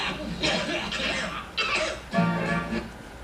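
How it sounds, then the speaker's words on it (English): A few rough coughs in short bursts, fairly close and moderately loud, with a brief pause between them. "Cough like you never coughed before."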